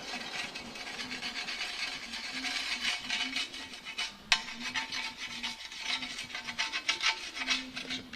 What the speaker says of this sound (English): lots of grease here. So we're just stirring it around.